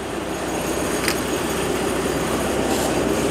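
A trailer-mounted diesel hot water jetter engine runs with a loud, steady, unbroken rumbling drone from start to finish, with no clear start-up burst.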